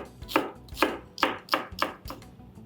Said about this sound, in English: Let's begin with slicing onions and tomatoes.